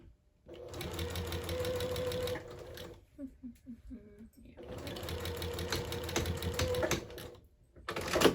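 A sewing machine back stitching on a quilt being repaired, running in two close, rapid bursts of mechanical stitching, with a brief pause between them filled by quieter handling clicks.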